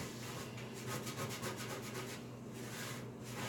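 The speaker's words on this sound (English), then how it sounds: "So let's go ahead and finish scrubbing this" A stove surface is scrubbed with a thick cleaning paste, giving a quiet, close, rhythmic rubbing in quick back-and-forth strokes that continue steadily throughout.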